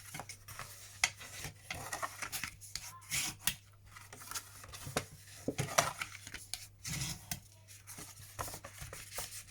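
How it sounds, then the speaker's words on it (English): Bone folder burnishing score lines on paper, a quiet irregular series of close rubbing and scraping strokes with small taps in between. "we're going to burnish all these score lines"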